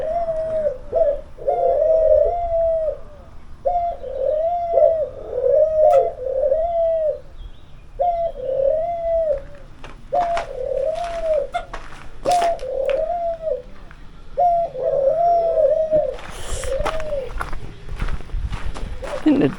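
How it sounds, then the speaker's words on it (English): Doves and pigeons coo in repeated soft, rhythmic phrases close by in a French garden, with footsteps and light rustling around them. "Ah, doves and pigeons, I think."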